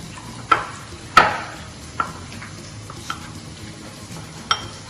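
A paste being stirred and mashed in a pan to loosen it, with several distinct scraping knocks of the utensil against the pan spaced irregularly over a soft sizzling background; no talking.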